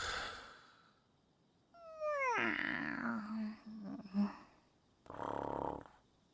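Characters snore while sleeping in Persona 5 Strikers: a loud rasping, sliding snore, a low growling exhale, then another noisy breathy snore, close and exaggerated.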